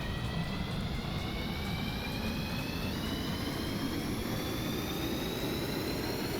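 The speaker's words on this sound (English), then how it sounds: "Alright, let's give it some throttle to take off." An aircraft engine in the Stormworks video game throttles up for takeoff, giving a steady roaring drone with rising whining tones, loud and continuous with no talk.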